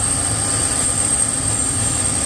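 An Antonov An-124 Ruslan cargo aircraft gives off a loud, continuous engine roar with a thin high-pitched whine, heard close by and unchanging throughout.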